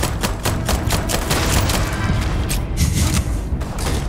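Starfield video game weapons fire in quick repeated volleys, loud and close, a steady barrage of shots with booming hits and no voices.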